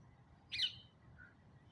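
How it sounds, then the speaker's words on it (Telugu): Outdoors, a bird gives one short, bright chirp, followed by a fainter second note, against quiet background hiss. "నాయిస్ వస్తుంది కదా, పక్షులు అరుస్తున్నాయి"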